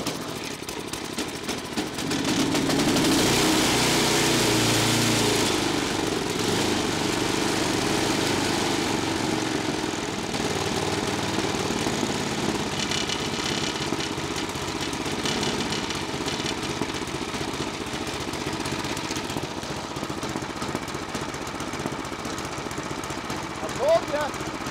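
A snow blower's small gasoline engine kicks to life after a quiet moment and keeps running steadily, a loud, rough, rattling drone that eases slightly later on.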